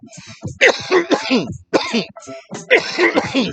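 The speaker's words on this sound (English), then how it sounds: "See, it's got me coughing like crazy." Repeated rough coughing and throat clearing from smoking Sour OG cannabis, close up, several strained bursts in quick succession, loud and raspy.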